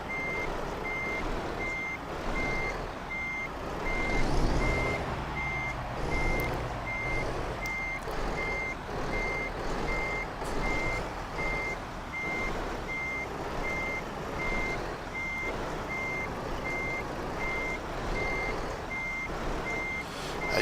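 Reversing beeps from a truck in Euro Truck Simulator 2 as it backs into a parking spot, a steady evenly spaced beeping running the whole time over a continuous engine rumble.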